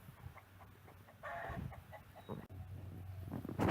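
Chickens cluck and murmur near a backyard coop, a few short close clucks and squawks scattered over a quiet outdoor background, fairly soft with one brief louder burst of commotion.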